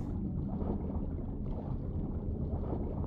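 A boat engine runs steadily in PUBG, a continuous low rumble and drone with water wash and wind noise, constant and fairly near, with no talking.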